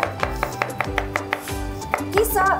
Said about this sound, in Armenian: Կիսա լուսնաձև էլի կտրատում ենք